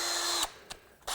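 Craftsman V20 20-volt cordless 1/2-inch two-speed drill spinning at low speed: a steady whir that cuts off, followed by a brief blip and a restart, fairly close, with no voices.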